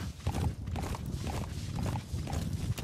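Horse hooves clip-clopping in the video game Metal Gear Solid V: The Phantom Pain, a steady run of close, fairly loud hoofbeats in quick rhythm across a busy game soundscape, with no talking.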